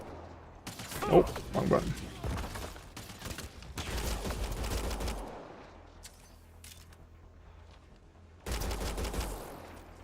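Bursts of gunfire from the Mass Effect Andromeda video game, several loud rapid volleys separated by quieter gaps, with a player talking briefly between shots.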